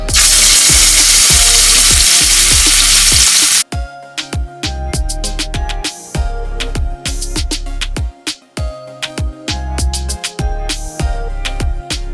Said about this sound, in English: I'm going to just add in my beef short ribs just to brown each side